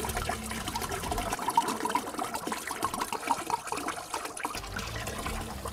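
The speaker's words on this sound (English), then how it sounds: "1 more shot of vodka." A shot of vodka is poured for a batch of Bloody Marys, a soft close trickle of liquid that runs for several seconds and tapers off, fairly quiet with no talking.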